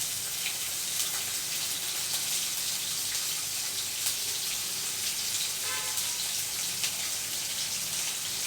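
Green chillies frying in hot oil, a constant hissing sizzle with faint crackles and pops, steady and moderately close throughout without speech.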